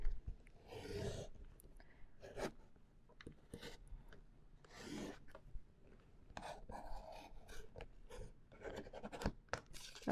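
Grayish blue paper is cut for a scrapbook border, heard as repeated close scraping and rubbing strokes in uneven bursts, with soft handling noises between them and no talking.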